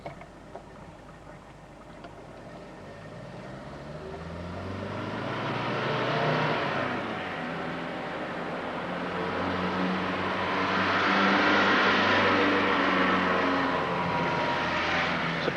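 A Volkswagen Golf diesel from around 1980 driving along town streets, its engine drone rising and falling through the gears as it moves off, steady and moderately loud with road noise and no talk.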